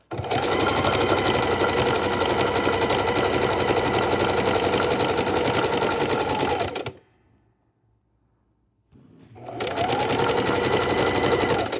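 A sewing machine stitches a raw edge appliqué scrap quilt table runner, running in a loud, steady, rapid whir for about seven seconds, stopping briefly, then starting up again.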